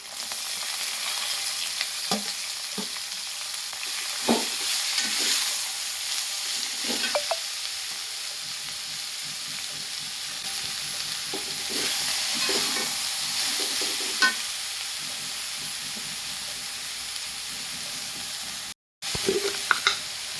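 Curry leaves fry and crackle in a pan while being stirred, a soft, continuous sizzling hiss with scattered scraping stirs, fairly quiet and close, then a brief cut near the end.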